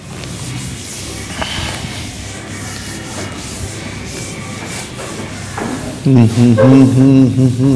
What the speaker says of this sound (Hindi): उसके लिए मैं इसे इरेज कर देता हूं।